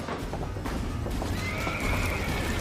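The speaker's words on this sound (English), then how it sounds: "We need to get the horses out of the barn!" Horses neigh and whinny in alarm inside a burning barn, with hooves clip-clopping beneath a dense, steady roar of noise; the calls rise near the end, and no one speaks.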